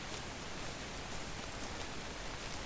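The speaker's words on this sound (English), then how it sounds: "It's raining on me." Steady rain hisses in ARK Survival Evolved, a dense, even wash of droplets that holds unchanged and fairly faint throughout with no voices.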